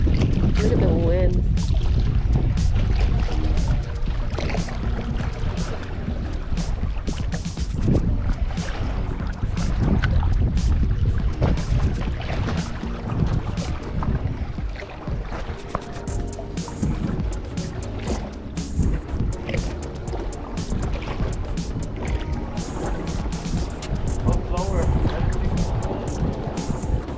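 Strong wind buffets loudly and continuously across a rocky jetty in Eureka during rock fishing, with gusty roaring over distant surf, while someone talks intermittently through it.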